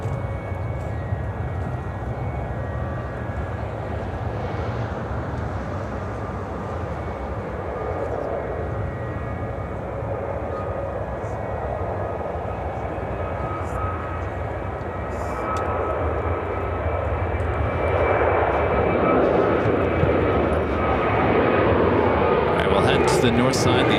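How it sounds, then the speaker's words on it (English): An Emirates Boeing 777 lands on runway 27 Center at Chicago O'Hare, a broad distant jet roar that holds steady and swells louder toward the end, with people talking nearby. "Emirates landing or about to land on 27 Center."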